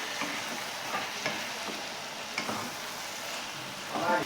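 Cabbage with fish head being stirred in a frying pan, with garam masala powder sprinkled on top: a steady close sizzle with soft spatula scrapes and a few light clinks, no talking.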